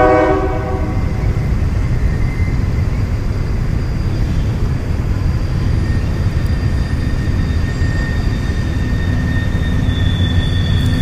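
A train rumbles past beside a bass fishing spot, a loud continuous roar with steady rolling noise throughout and faint horn-like tones drifting in and out.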